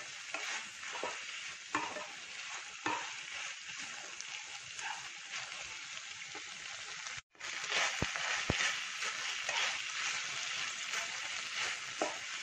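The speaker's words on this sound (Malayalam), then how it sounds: "സോയ സോസ് ചേർക്കാം. നന്നായി മിക്സ് ചെയ്യുക." Chop suey being stirred in a hot pan after soy sauce goes in: a steady, close sizzle with continuous scraping and tossing, a brief drop near the middle, then more stirring.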